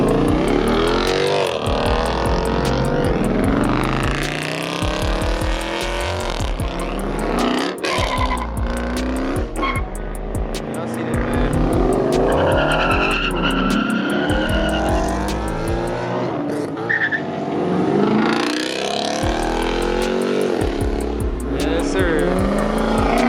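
Mopar cars including a Jeep Trackhawk roar out of a lineup, loud engines revving hard with tire squeal and skids, close and continuous, with a crowd talking and shouting throughout.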